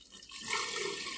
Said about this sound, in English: run the water for about 5 minutes, approximately 2 gallons, and you'll hear gurgling and air